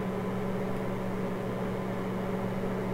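A steady, even hum of a combination microwave oven running at 30% microwave power and 375 degrees, with a fan-like whir, constant and unchanging throughout.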